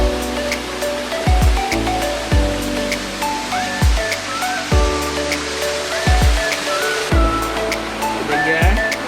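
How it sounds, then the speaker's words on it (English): Sigua Falls in the Guam jungle gives a steady broadband rush of falling water, with recurring tonal sounds layered over the continuous roar. "Beautiful little place just to sit and enjoy the nature. Waterfall and the jungle."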